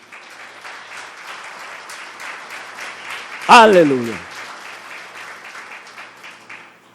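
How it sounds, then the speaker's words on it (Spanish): Worshippers clap loudly for the Lord in a church, a sustained wash of applause through which a single voice calls out once, midway. "Dale un fuerte aplauso al Señor"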